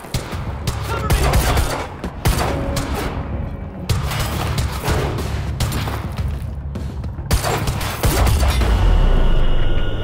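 Heavy gunfire in the action shooter Quantum Break: loud, close bursts of rapid shots and booming blasts crack repeatedly in quick clusters, nearly nonstop for the whole stretch.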